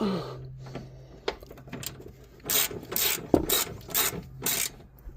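A hand ratchet tightens the sway bar bushing bolts on a Can-Am Maverick X3 side-by-side, giving a run of quick clicking bursts at close range with no talking.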